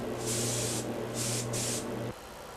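Three short close hissing bursts from a spray gun misting blue stain shader over lacquered wood, with a low steady compressor hum underneath that cuts off at the end.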